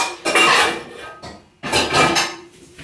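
Metal pots and pans clatter in a home kitchen, two loud bursts of banging and scraping close by, with no talking.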